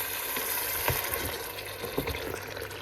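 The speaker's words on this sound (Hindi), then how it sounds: "बस इसमें मैं दाल शामिल करके तो 1 मिनट इसको भून के तो नीचे उतार लेते हैं।" Chicken with chana dal fries in a pan, giving a soft steady sizzle with a few scraping stir strokes, fairly quiet and close, no voices.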